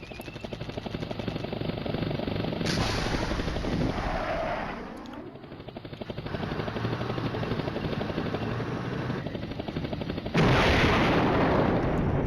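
Wartime combat din from Flashpoint Campaigns Red Storm, a NATO staff exercise scenario: a dense, continuous wash of rumbling explosions, helicopter-like drone and gunfire, steady and loud throughout with heavier surges near the end.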